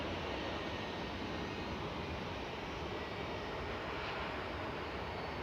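Jet2 airliner departing Manchester Airport for Pula, Croatia, a steady broadband engine roar at a distance, fairly faint and continuous, with no voices.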